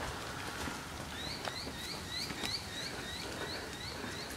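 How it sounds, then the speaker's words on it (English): Birds chirping around a university campus, a repeated series of faint, high, thin calls at a distance over a quiet outdoor background. "So you can hear some more birds over there."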